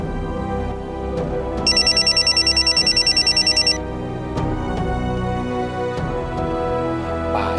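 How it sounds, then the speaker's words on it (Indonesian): A telephone rings in repeated bursts for about two seconds, loud and clear over a steady background of music and room noise, then stops. "Apaan sih si Nur ini pakai telepon-telepon segala"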